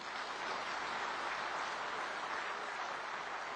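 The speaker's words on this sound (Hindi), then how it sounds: "अब मेरी बात पर जोर से ताली बजाना" A crowd at a speech about computerised PACS cooperative societies breaks into loud, sustained applause, a dense even wash of many hands clapping at once with no pauses across the whole stretch.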